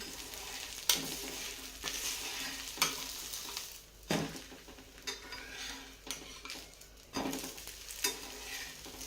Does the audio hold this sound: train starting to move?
no